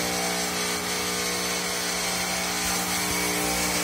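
A TIG welding machine's transformer gives off a steady, dense electrical buzz and hum with strong tonal layers, heard continuously and fairly loud throughout while welding goes on with a high-frequency ignitor.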